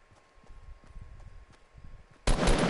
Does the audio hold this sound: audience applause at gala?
no